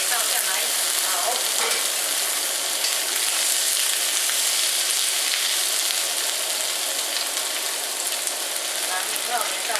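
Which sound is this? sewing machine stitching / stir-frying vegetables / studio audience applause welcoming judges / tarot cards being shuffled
stir-frying vegetables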